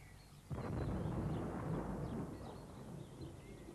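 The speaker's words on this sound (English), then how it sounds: "There was indeed a thunderstorm brewing." A deep, low rumble of thunder from a brewing storm starts suddenly and rolls on at moderate loudness before slowly fading, in a 1987 children's animated programme.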